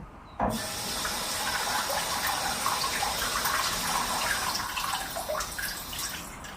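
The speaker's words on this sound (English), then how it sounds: "let's run it into some cool water" Cool tap water gushing steadily from a faucet into a sink over a burned hand, a loud continuous splashing rush that starts abruptly and runs without pause, with no talk.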